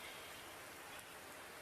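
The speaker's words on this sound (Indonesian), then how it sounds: "Kan bisa tunggu hujan berhenti, toh." Steady rain falls with a dense, even hiss and no gaps, very quiet and distant, with no voices over it.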